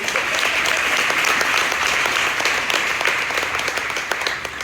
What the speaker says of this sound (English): Clap for him so we'll be encouraged.